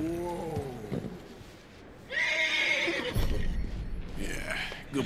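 In Red Dead Redemption 2, a horse gives a couple of close, loud neighs and whinnies with hoof clip-clops between them, no one speaking.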